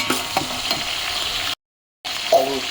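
Frying in a pot on the way to chicken biryani, a steady close sizzle with a few stirring scrapes, cutting out briefly before the sizzle returns.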